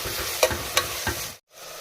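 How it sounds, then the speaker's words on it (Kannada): Carrots, peas and potatoes frying in oil, a constant sizzle broken by three quick stirring scrapes before a brief cut to silence. "ಕ್ಯಾರೆಟು ಮತ್ತು ಬಟಾಣಿಗೆ ಆಲೂಗಡ್ಡೆ ಹಾಕಿದ್ರೆ ಇವು ಸ್ವಲ್ಪ ಫ್ರೈ ಆಗಲಿ"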